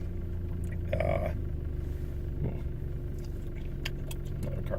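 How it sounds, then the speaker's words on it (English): A car pulls into a nearby space in a restaurant parking lot with a low, steady engine rumble and a brief rattle, while someone talks over it. "car parking near me"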